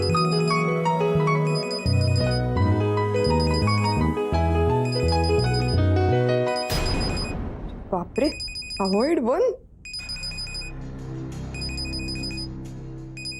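A telephone bell rings with repeated bursts over loud television-serial background music, followed by a person speaking.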